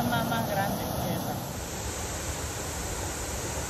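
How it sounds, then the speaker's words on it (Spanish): The Tanque Verde waterfall, about 80 feet high, roars as a steady broadband rush of falling water, loud and constant, with no voices heard. "Ahí está la cascada"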